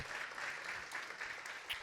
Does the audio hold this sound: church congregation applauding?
yes